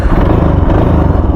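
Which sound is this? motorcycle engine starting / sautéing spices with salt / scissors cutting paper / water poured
motorcycle engine starting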